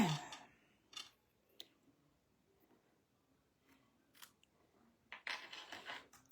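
Scissors trimming cardstock into a banner end for a ghost spinner card, a few soft, separate snips and rustles spread across long quiet gaps, ending with a brief burst of handling noise.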